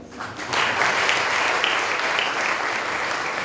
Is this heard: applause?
yes